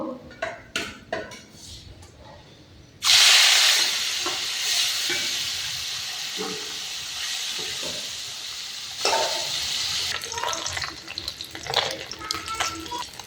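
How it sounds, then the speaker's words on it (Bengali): Small puti fish fry crisp in hot oil, with a loud sudden hiss as they hit the pan, then a sustained sizzle alongside utensil clinks and scraping. "এই মাছগুলাও কড়া করে ভেজে নেব"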